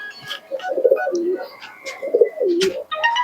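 Pigeons coo in low, rolling throaty calls, two or three bursts close by, with some faint chirps and rustling around them.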